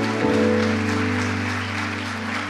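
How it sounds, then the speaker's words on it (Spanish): Church congregation applauding during a Spanish-language worship service, a broad steady wash of clapping over sustained organ or keyboard chords that continue throughout. "Démosle un aplauso al Señor en esta mañana."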